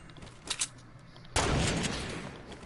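Gunfire in a Fortnite-style shooter video game: a couple of quick shots, then a loud burst of sustained fire that stays dense for over a second.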